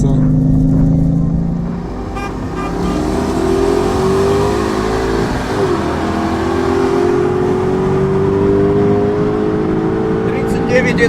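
A BMW E39 M5 and a Mercedes W210 AMG accelerate side by side in a race, their engine drone rising steadily in pitch as they pull hard, heard from inside the car with people talking over the engine.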